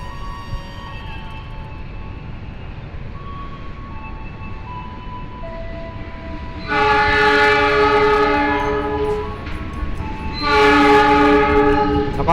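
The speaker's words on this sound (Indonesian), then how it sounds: "Ini kereta api Rangga Jati persiapan masuk jalur 3 stasiun Yogyakarta." The Ranggajati passenger train rumbles steadily into Yogyakarta station, Indonesia, then a loud multi-tone locomotive horn blasts twice, once around the middle and again near the end, close by.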